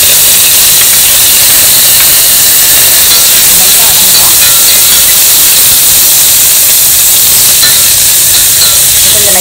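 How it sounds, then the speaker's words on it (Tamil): Mustard seeds, urad dal, fenugreek, onion and curry leaves sizzle in hot sesame oil in a home kitchen, a loud, steady, close frying hiss that runs unbroken throughout. "நான் தாளிக்கிறதுக்கு வந்து கடுகு, கொஞ்சம் உளுத்தம்பருப்பு, ஒரு பிஞ்ச் வந்து வெந்தயம் தாளிச்சிடுவோம்"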